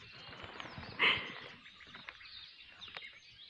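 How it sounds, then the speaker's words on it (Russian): Birds chirping in the taiga forest, faint scattered calls with one brief louder chirp, heard at a distance over quiet background. "Птички поют."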